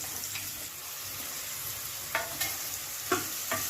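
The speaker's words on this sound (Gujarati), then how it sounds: "તુરિયાને એકદમ હલાવી લઈશું." Ridge gourd with spices being stirred in a pan over a raised flame: a steady sizzle with a few soft scraping strokes of the spoon, close and moderately loud, no voices.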